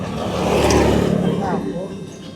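A motorcycle engine revs and rumbles close by while a person talks over the ride, the engine rising briefly and then easing off.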